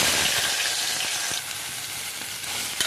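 Small pieces of ivy gourd sizzle and crackle steadily in hot oil with mustard and cumin seeds, a dense, close frying hiss that eases slightly partway through and carries on without any talk.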